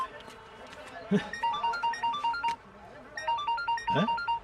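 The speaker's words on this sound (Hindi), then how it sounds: "हिटलर का फोन।" A phone rings with a repeating electronic melody, close by, while people talk over it.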